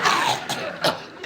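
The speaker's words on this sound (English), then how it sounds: "That's a cough." Two or three harsh, raspy coughs in quick succession, close and loud, with no speech.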